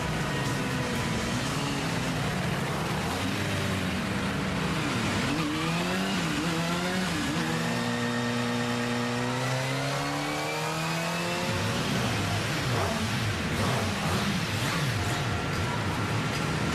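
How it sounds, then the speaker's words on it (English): A Kawasaki motorcycle engine at a factory power test revs up and down loudly and close, its pitch sweeping up and falling back through repeated throttle blips, with a sustained high run in the middle and steady mechanical roar throughout. "They fire up the engine for the first time, letting it warm up before the very last step,"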